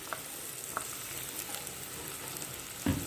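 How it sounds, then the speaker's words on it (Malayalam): Crushed shallots frying in hot coconut oil for a prawn curry, giving a steady soft sizzle with a few faint clicks and a louder stir or clatter near the end. "നമുക്ക് ആ ചുവന്നുള്ളി അതിലേക്ക് ഇട്ട് കൊടുക്കാം."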